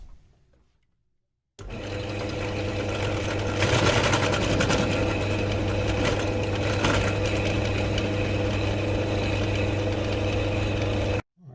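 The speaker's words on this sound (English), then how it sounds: "I've got a mill bit in there and I'm going to try and create notches either side of the hole" A rotary tool fitted with a mill bit cuts notches into a spur gear from a pressure washer repair, a loud, steady, high-pitched whine running continuously for about ten seconds, starting and stopping abruptly.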